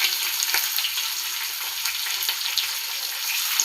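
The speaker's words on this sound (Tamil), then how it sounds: "வெங்காயம்லாம் நல்லா வதங்கட்டும்." Steady, crackling sizzle of chopped onions frying in hot oil with chillies and curry leaves for mango rice, dense and continuous with small pops throughout, no voices.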